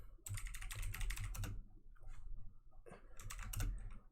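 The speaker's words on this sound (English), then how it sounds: "I'll just type it somewhere." Typing on a computer keyboard, two quick bursts of close, crisp key clicks separated by a short pause, fairly quiet with no talking.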